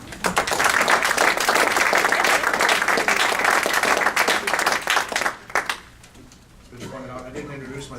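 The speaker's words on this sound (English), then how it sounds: "please be recognized and given a round of applause" A press-conference audience at the South Dakota Hall of Fame gives a loud, dense round of applause that cuts off sharply, followed by quiet room tone and a murmur of voices.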